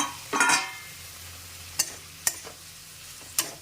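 Tomatoes dropped into a hot pan for a home-cooked potato, eggplant and bori curry: a brief burst of sizzling at the start, then quiet frying under a few sharp clinks of a spoon against the pan.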